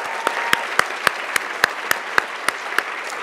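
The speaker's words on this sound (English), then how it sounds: "A little clap" Brief applause from an audience at a book award reading hall, a moderate wash of clapping with a few distinct sharp claps standing out at a regular pace.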